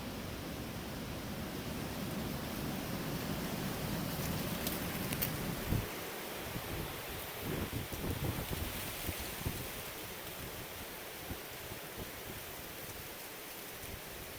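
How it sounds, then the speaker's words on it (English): Wind rushing through woods on a deer hunting day, a broad steady roar of moving air and rustling leaves that is strong at first and then eases into gustier, lighter rustling, with no talk. "Just the wind is monkeying things up when it comes to hunting, messing with things"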